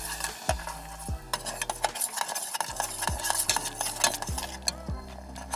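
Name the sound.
stirring cornstarch and vanilla mixture in a pot over medium heat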